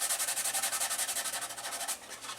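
Steady rhythmic sanding of putty on a Monogram 1/48 F-15C plastic model kit, a close, dry rasping stroke repeated about ten times per second, quiet and alone.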